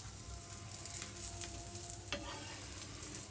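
A paneer and bottle gourd breakfast roasting in a pan, a soft, steady sizzle with faint stirring and scraping, close but quiet, no talking over it.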